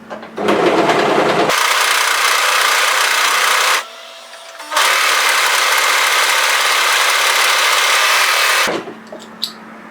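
A four-thread serger stitches and trims scarf fabric with its blade, running in two long continuous mechanical bursts separated by a brief pause, loud and close.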